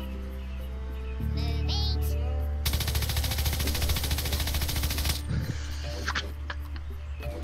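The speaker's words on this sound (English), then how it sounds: "I fired an Uzi into me." Rapid Uzi fire from the video game Worms Revolution rattles out as a loud, dense burst lasting about two and a half seconds, set between stretches of game music and effects.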